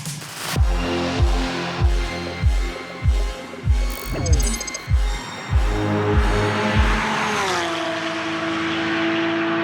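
Porsche 992-generation 911 Carrera S sports car driven hard, its engine revving loudly in repeated rising bursts with quick upshifts, then settling into a steady, sustained drone at speed.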